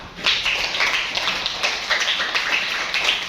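A classroom of students claps together, a steady, dense patter of many hands that runs evenly from start to finish with no voices on top.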